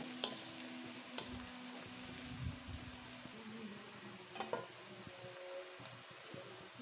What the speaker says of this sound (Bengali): কত সুন্দর লাগছে ঝাল পেঁয়াজ রসুন ভাজাটা